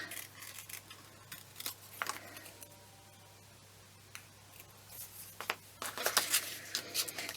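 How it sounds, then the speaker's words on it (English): Scissors snip through paper in scattered short cuts, close and quiet, with a quicker run of snips near the end. "Of course you turn your paper and not your scissors"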